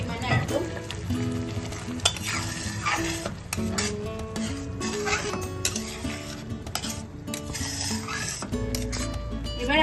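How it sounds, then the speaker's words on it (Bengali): A little water goes into palak paneer gravy in a hot pan, giving a lively, steady sizzle with frequent metal clinks and scrapes of a spoon against the pan, close-up and without voices. "তো আমি এবার একটু সামান্য জল অ্যাড করছি, অল্প পরিমাণে একদম।"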